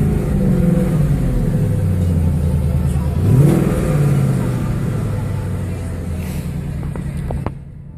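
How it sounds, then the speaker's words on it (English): A factory exhaust on a 2017 Ford Mustang GT V8 blips loudly once near the middle, then settles back into a deep, steady idle rumble close by, with someone speaking faintly underneath. "Really nice sounding exhaust,"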